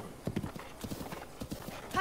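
Hooves clip-clop at a steady walking rhythm as a horse moves in a Zelda game on the Nintendo Switch, with a brief whinny-like tone near the end. The footfalls are fairly close and clear, with no talking over them.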